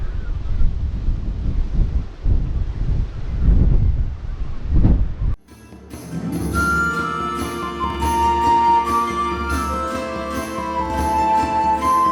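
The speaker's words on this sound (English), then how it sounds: "It really is very, very windy." Heavy wind at Hastings Castle buffets the microphone in rough gusts for several seconds, then cuts off abruptly as music takes over.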